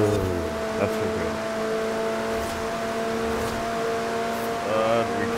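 A McLaren's engine in Forza Horizon 4 drones steadily with held harmonic tones as the car accelerates, a brief pitch rise near the end, with a voice talking over it.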